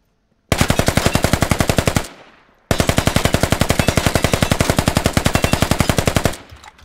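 Rapid automatic gunfire at training targets comes in two loud, close bursts, a short volley followed by a pause and then a longer sustained string of evenly spaced shots that stops abruptly.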